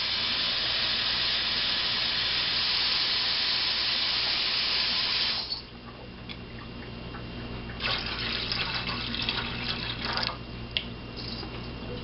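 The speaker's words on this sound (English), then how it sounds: "you gotta fill your water up with" Tap water filling a container for cooking rice, a loud steady rushing hiss for about five seconds, then quieter, uneven trickling and splashing as the flow eases.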